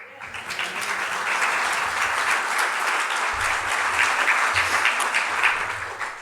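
Audience applause fills a housing breakfast gathering, a dense, steady wash of many hands clapping at full strength for several seconds with no break.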